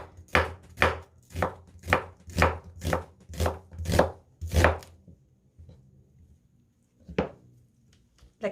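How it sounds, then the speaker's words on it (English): Kitchen knife slicing a halved onion on a cutting board: about nine crisp, evenly paced chops in quick succession, then a pause and one more lone cut, close and clear with no voices. "Now I gonna cut it into half. Then slice it."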